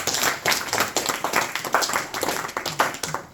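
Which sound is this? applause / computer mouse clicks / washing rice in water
applause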